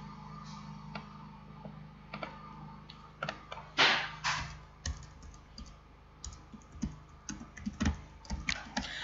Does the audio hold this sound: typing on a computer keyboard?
yes